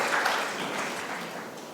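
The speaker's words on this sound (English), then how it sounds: "let's all give him a round of applause for the hard work" Audience applause at the close of a medical talk on robotic surgery, a short burst of clapping from a room full of listeners that fades slightly over under two seconds.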